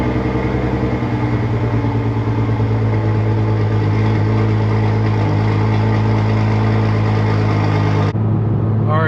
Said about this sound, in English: Let's just get a quick cold start and get this thing pulled out of the garage.